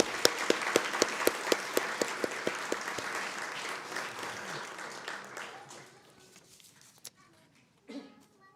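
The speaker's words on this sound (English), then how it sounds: "Let's give another round of applause." An audience applauds at the opening ceremony of the Sakya Temple of Peace, brisk rhythmic clapping at first that thins out and fades into a few scattered claps and quiet.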